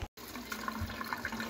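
Beets, already trimmed, scrubbed by hand under running water in a sink, a steady wash of splashing and rubbing with a brief gap near the start.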